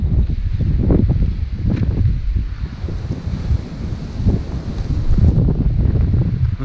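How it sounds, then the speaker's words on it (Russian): Strong wind at Uglovaya Bay buffeting the microphone in heavy low rumbling gusts, steady and loud throughout, with a faint wash of water in the background. "Да, сильный ветер."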